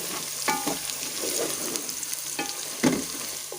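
Aloo tinda (potato and round gourd) curry is stirred in a sizzling pan: a soft steady fry runs under three distinct scraping spoon strokes, close and clear.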